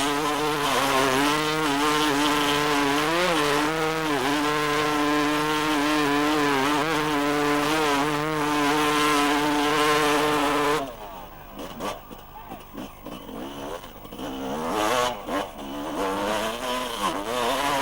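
A hard enduro motorcycle at the Gilles Lalay Classic, 1995, held on the throttle through a mud bog: a loud, sustained buzzing engine note that wavers in pitch, drops off sharply, then surges back in uneven bursts.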